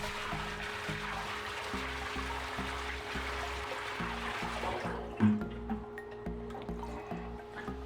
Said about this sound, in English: We're done with this water now, so I'm going to pour it out.